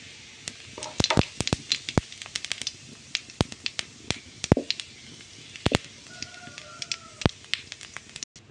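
Cumin seeds crackle and pop in hot oil, a dense run of sharp, irregular snaps over a low sizzle, fairly close and lively throughout, with a faint background tone late on.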